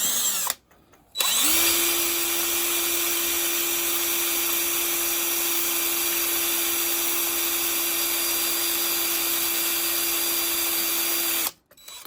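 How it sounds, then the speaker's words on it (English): A power drill drilling out a bolt on a Honda CL350/CB350 motorcycle spins up after a short start and whirs steadily at high speed for about ten seconds, loud and close, then stops. "let's go ahead and drill this out"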